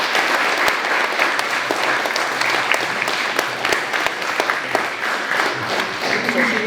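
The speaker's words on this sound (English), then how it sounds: "So give yourself all a big round of applause." Loud, dense applause from a seminar crowd in a mixed martial arts gym, steady clapping sustained throughout with some faint voices underneath.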